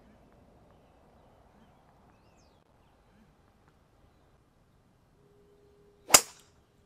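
A golf club strikes the ball on the 17th hole, one sharp crisp crack ringing out after a few seconds of quiet outdoor ambience, near and alone.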